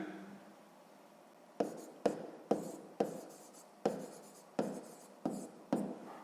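Handwriting on paper, with eight distinct pen strokes scratching out in a quick irregular rhythm, close and fairly quiet, after a short hush with faint background hiss.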